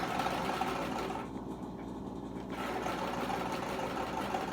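A sewing machine stitches a washable reusable cloth pad with a steady, continuous mechanical whir that keeps running close and loud, dipping briefly in the middle, with no talk.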